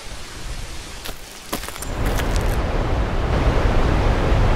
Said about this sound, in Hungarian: jött a vízesés, először távolról halljuk, kicsit ilyen finomabb hang